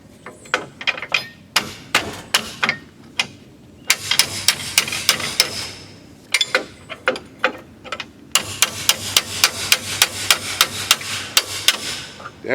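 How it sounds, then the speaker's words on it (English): Sharp metallic taps strike in quick bursts, a hammer rapping on a wrench over and over on a stiff trailer brake actuator, with short pauses between volleys, close and fairly loud. "I don't suggest you use a hammer and a wrench that way"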